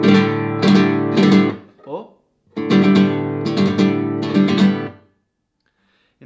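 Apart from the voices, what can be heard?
flamenco guitar pinch rasgueo (rajeo de pinza)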